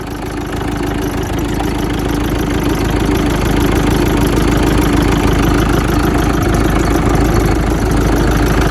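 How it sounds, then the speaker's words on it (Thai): A Mazda LD20 turbo engine idles steadily, a loud, continuous low rumble with a faint knocking texture and a vibrating hum, close by and unbroken with no talking. "นี่ครับเครื่องเทอร์โบนะครับ"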